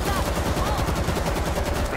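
Dense, continuous gunfire fills a World War Z zombie shooter match in New York, with rapid overlapping rifle and machine-gun bursts. Voices talk in the mix throughout.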